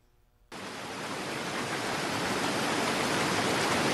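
A waterfall's rushing roar cuts in abruptly after a quiet moment and holds loud and steady, a broad, unbroken wash of falling water with no voices.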